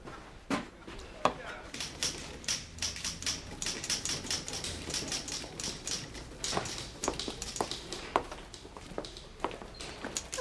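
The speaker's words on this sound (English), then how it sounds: "I've been typing up some of the work that Nora left unfinished on Naked Love." A mechanical typewriter clacks in a steady, irregular run of sharp key strikes, close and fairly loud, with occasional heavier carriage or bell-like hits, in a 1930s-era office setting.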